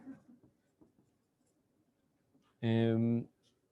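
Chalk or marker scratches on a lecture board as a graph is drawn: faint, intermittent scraping strokes, then a short loud tonal squeak from the board.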